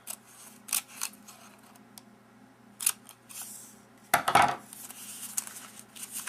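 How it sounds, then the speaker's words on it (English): Scissors cutting slits into a cardboard toilet paper tube: a series of sharp, close snips spaced irregularly, with a louder cluster of cuts near the end amid quiet handling noise. "I'm going to cut slits. Up to that fold line."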